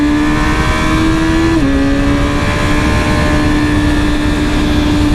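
A Yamaha R1 sport bike in sport mode pulls hard through second gear, a loud, steady engine note climbing continuously with one brief dip partway through, heard close up with no talking.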